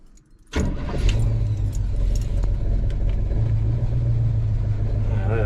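A 1973 Chevy C20 truck engine cranks and catches after a brief quiet moment, then settles into a loud, steady, deep idle rumble close by.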